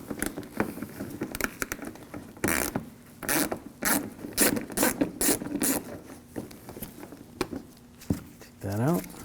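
An 8mm socket ratchets out side screws on the front upper grille of a 2007-2013 BMW 328i, giving bursts of close mechanical clicking with pauses, a voice talking softly between them and a short creak at the end.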